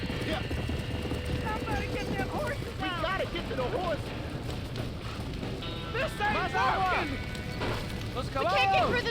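Panicked horses in a burning barn in the Red Dead Redemption video game let out repeated whinnies and neighs over a constant roaring fire and stamping hooves, with voices speaking in between.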